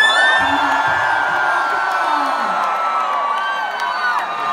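A loud concert crowd at MGM National Harbor screams and cheers continuously, with whoops and shouts rising over a dense wall of voices.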